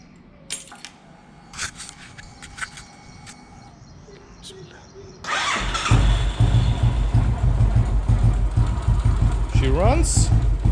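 A Royal Enfield Classic 500 fitted with Hitchcocks Performance parts and a new battery: a few scattered clicks and rattles come first, then the engine fires up and settles into a loud, steady, close-up idle with a thumping rumble.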